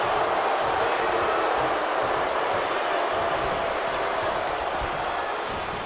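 Arena crowd in WWE 2K24 wrestling, a continuous dense roar of cheering that stays loud and even throughout, with no pauses.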